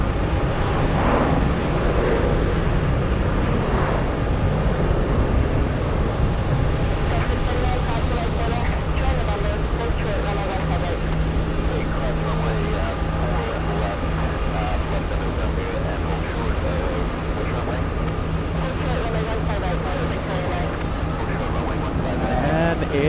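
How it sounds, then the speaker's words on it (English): JetBlue jet departing Boston Logan International Airport for San Diego, fully loaded, giving a long steady roar of engines that holds throughout, fairly loud with a broad rumble. "And there goes JetBlue, heading to San Diego,"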